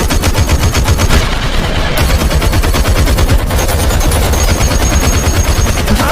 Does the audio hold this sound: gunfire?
yes